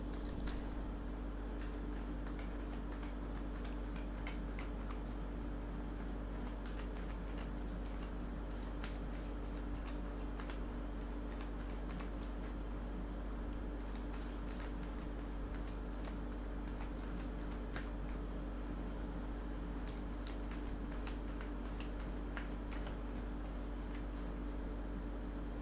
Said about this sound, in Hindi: मैं कुछ कार्ड्स और निकालती हूँ।